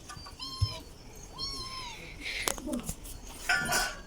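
A cat meows a few times up close, short rising cries with brief pauses, while people talk and shuffle nearby.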